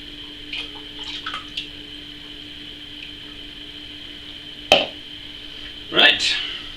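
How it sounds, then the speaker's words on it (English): Water splashes and sloshes as a sterilized bottle is rinsed out during homemade peach and elderflower champagne making, with two loud close bursts late over a steady background hum and a few light knocks earlier. "I can wash it out with the lovely glubby glub"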